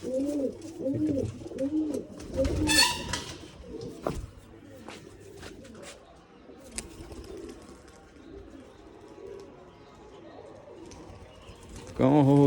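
Low coos from a female pigeon on a perch repeat near the start, followed by quieter ambient rustling and scattered clicks, with another burst of cooing at the very end.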